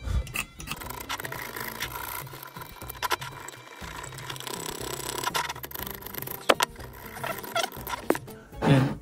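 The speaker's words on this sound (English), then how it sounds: "What you're going to do is just key the metal to make it easier to solder to." Abrasive scuffing on the metal terminal of a Milwaukee power tool battery, close-up rough rubbing and scraping strokes in irregular bursts with occasional small clicks.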